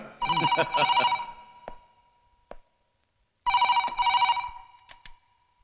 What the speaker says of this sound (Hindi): किसका फोन है अपने दोस्त का या किसी दुश्मन का